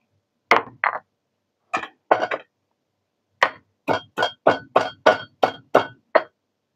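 Lemongrass stalks pounded with a pestle in a home kitchen while cooking nasi goreng, a few isolated hard knocks followed by a steady run of about nine sharp, close, loud strikes with clear gaps between them.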